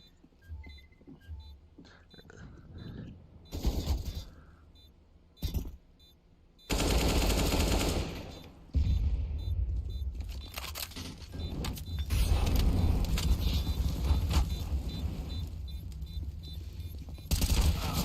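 Rapid bursts of automatic gunfire and single shots in a CS:GO casual matchmaking round, loud and close, coming in clusters with quiet gaps between them and a sustained heavy stretch toward the end.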